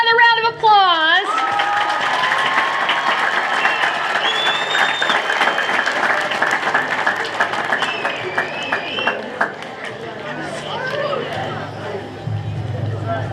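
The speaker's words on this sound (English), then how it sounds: "we got to give them another round of applause" Audience applause at an 8th grade recognition ceremony, a steady crowd of clapping hands sustained for several seconds with cheering and chatter mixed in, tapering off toward the end.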